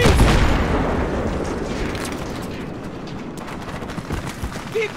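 Gunfire from an ambush in the trees in Battlefield 3: a heavy burst of shots and booms opens loud, then fades into scattered cracks and a rumbling battle backdrop.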